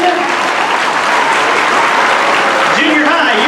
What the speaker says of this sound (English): One more round of applause for our 6th grade band.